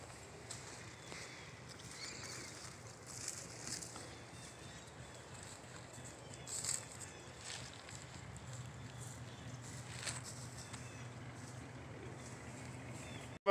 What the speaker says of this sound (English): it's pretty windy out here, I'm not gonna lie.